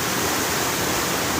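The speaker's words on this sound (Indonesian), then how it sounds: "saya dikelilingi beberapa air terjun hari ini" Siganea waterfall below Mount Salak near Bogor roars as a constant, dense wash of falling water, loud and close, with no other sounds over it.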